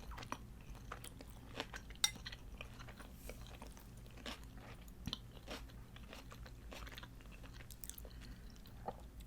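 Someone chewing crunchy cold homemade pasta, soft close crunches and mouth sounds scattered through a quiet room, with an occasional faint utensil tap.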